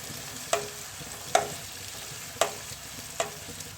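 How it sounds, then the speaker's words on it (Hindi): Chopped onion frying with spices in a pan for an aloo mirch tarkari. A low sizzle runs underneath, and four sharp stirring clinks fall at uneven intervals. "और प्याज को मैं थोड़ा सा भूनूँगी मसालों के साथ में।"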